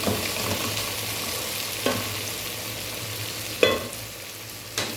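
Tinapa, a smoked fish, is sautéed with a soft, steady sizzle in a pan at home, broken by a few clinks and scrapes from the spatula.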